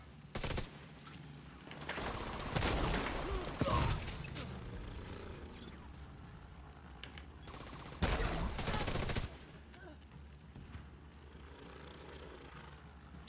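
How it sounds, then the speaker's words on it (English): Video game gunfire during PvE combat: repeated loud automatic bursts, one around two seconds long and another near the middle, separated by quieter stretches of game noise and scattered shots. "Stop shooting me."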